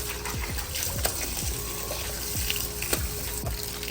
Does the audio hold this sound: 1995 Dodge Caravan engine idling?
no